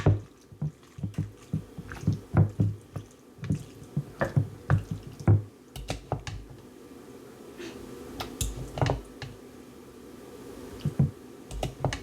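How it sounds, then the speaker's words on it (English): Leftover beef stew gravy being scraped from the bottom of a pot, with repeated short clinking scrapes and wet, drippy taps in an irregular rhythm, close and moderately loud throughout with no talking. "Trying to get all my good gravy at the bottom here."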